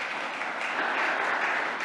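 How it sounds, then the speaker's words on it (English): An audience applauds a panel of offshore wind energy experts at a climate event, a dense, steady wash of many hands clapping, close and loud throughout with no speech. "So everyone, give our panel of experts"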